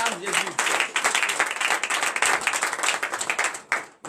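Congregational applause at a morning prayer service acclaiming Jesus, dense rhythmic clapping from a crowd sustained for about four seconds, with voices mixed in.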